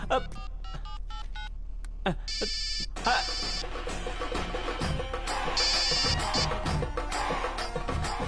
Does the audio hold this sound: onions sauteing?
no